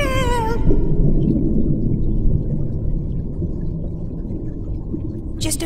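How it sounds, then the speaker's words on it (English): A cartoon whale lets out a deep, loud, rumbling moan that swells and drones on steadily, preceded by a brief high voice at the start and a sharp noise at the end. "it's a whale! No! Whale!"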